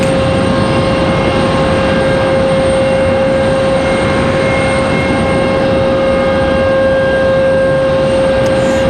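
JetBlue airliner during pushback at Raleigh-Durham airport, a steady, loud engine whine and roar with a sustained high tone, continuous and close throughout, no voices.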